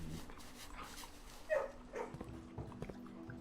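A puppy in the Hytale video game gives soft whimpers and small yips over a steady low background hum, fairly faint and intermittent.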